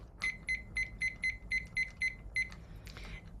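A kitchen timer set for nine minutes gives about ten short electronic beeps in a steady, evenly spaced rhythm, fairly close and clear, with a little faint rustling after the last beep.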